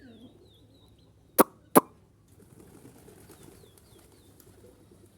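Pigeons arriving at a feeding spot give two sharp, loud bursts of wing flapping close by, then a softer flutter and faint bird calls over quiet outdoor background.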